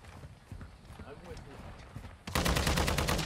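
A sentry gun opens fire in Call of Duty Modern Warfare 2 Team Deathmatch, a loud, rapid burst of automatic shots that starts abruptly after a stretch of quieter battlefield noise and voice chatter.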